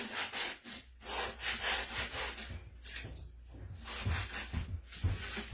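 Wood being sanded by hand with a sanding block, a steady scratchy back-and-forth rasping in uneven strokes, close and moderately loud, with no voices.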